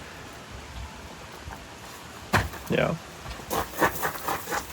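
Heavy rain falling on a camp in the Harz mountains, a dense, steady hiss with a few louder patters, briefly under a short spoken word.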